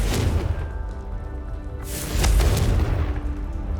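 Heavy booming blast of the Confringo spell in Hogwarts Legacy, a loud low burst with a brighter crack near the middle over a constant rumbling background.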